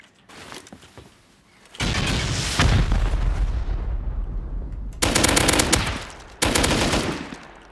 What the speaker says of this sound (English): Let's just go ahead and rocket these garages out.